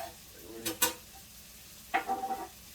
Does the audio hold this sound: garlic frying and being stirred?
yes